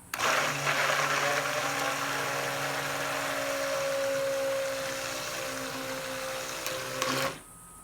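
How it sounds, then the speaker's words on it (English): A stick blender whirs steadily for about seven seconds mixing cold process soap, a close, continuous motor drone with a high whine, then abruptly switches off. "now we're going to turn on the stick blender"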